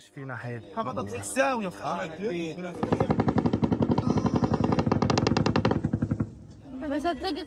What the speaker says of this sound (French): On entend des coups de feu partout.